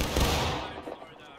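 A loud musket volley in the game War of Rights, a single heavy blast that rolls away into a fading rumble with faint voices behind.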